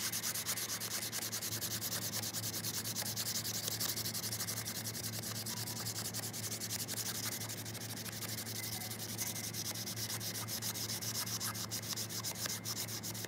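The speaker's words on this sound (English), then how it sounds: "you put the Diet Coke on the aluminum foil, and you get over to your surface, and you just start scrubbing" Aluminum foil dipped in Diet Coke scrubbing rust off chrome, a steady continuous abrasive rubbing that runs without pause at an even, moderate level over a faint background hum.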